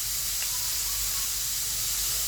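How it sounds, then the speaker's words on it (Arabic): Small pieces of chicken liver and gizzards sauté in a pan, giving a loud, steady hiss with no breaks and no talking. "هشوح الكبد والقوانص، قطعتهم قطع صغيره"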